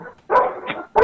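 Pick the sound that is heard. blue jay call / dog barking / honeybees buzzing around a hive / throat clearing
dog barking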